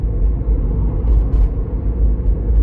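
A car speeds past a Toyota Prius on the road, a steady low rumble of engine and road noise that swells slightly as it passes, with no talking.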